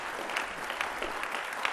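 Audience applause at the BrainMind 2019 conference, a steady dense patter of many hands clapping in a hall, moderately loud and continuous with no voices over it.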